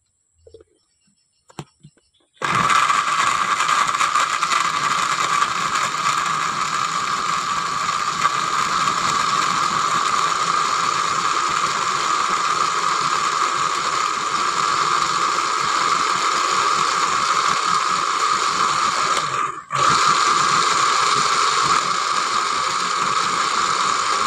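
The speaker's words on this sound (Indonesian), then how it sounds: "Selanjutnya dihancurkan juga di blender." A blender crushing eggshells runs steadily and loudly for about twenty seconds, whirring with a grinding rattle, then cuts out briefly and starts again.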